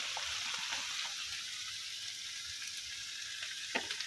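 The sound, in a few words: dried loitta fish frying with onion and garlic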